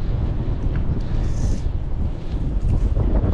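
Gusty wind buffets the microphone during a fishing outing, a steady, loud low rumble that fills the whole stretch with no voices.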